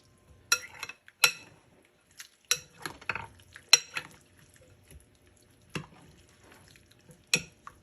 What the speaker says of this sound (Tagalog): Ihalo lang natin.